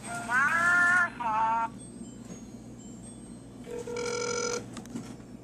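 A telephone rings in short repeated electronic bursts, loud and close, with a steady hum underneath and a brief gap of quiet between the ring patterns.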